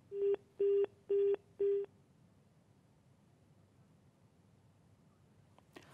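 Four short, evenly spaced beeps on a telephone line at the end of a listener's phone-in call to a live health programme, then near-silence with a faint click at the end.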